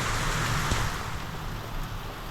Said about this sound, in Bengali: আর এখন বৃষ্টি খুবই জোর পড়ছে